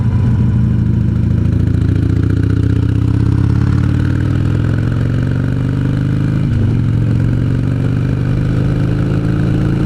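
A motorcycle engine drones loudly and continuously while riding, a close, dense mid-pitched roar with slowly shifting pitch as the bike rolls along, no voices over it.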